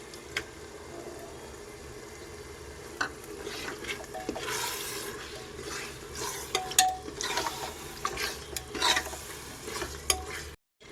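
Chopped tomato added and stirred into mutton biryani masala in a pot, with close scraping stirs, spoon clinks and a soft sizzle underneath, louder bursts of stirring toward the end.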